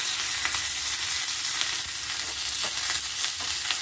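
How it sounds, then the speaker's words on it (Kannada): Half a spoon of mustard seeds splutters in hot oil with curry leaves and a chili for a chutney tempering: a loud, steady sizzle dotted with sharp popping crackles, close up and with no voices. "ಸಾಸಿವೆ ಒಂದು ಅರ್ಧ ಸ್ಪೂನು ಸಿಡಿತಾ ಇದೆ."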